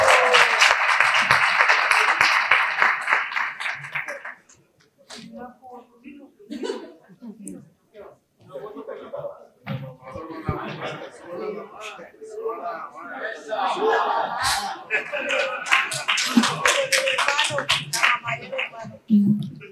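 An audience at a gastroenterology association assembly applauds a specialist doctor, a loud burst of clapping that fades, followed by scattered voices and murmuring, then a second swell of applause toward the end.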